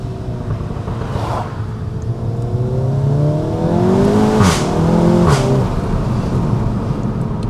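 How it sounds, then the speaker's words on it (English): Standard exhaust on a SEAT Leon Cupra 300 climbs steadily under acceleration on a damp tree-lined road, close and loud, with sharp shift blips and a swell of engine noise midway. "For a standard exhaust, it sounds mega."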